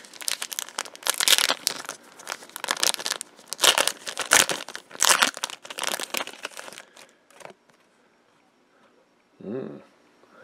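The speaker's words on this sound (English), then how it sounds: "Let's see what's in this promo card pack." Crinkling and tearing of a promo trading card pack for the Goddess Story anime card game, close and fairly loud in bursts for about seven seconds, then quiet with a short faint voice near the end.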